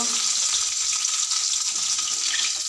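Pieces of pona fish fry in hot oil in a home kitchen, giving a steady, dense sizzle close to the pan that holds even throughout, with no talk.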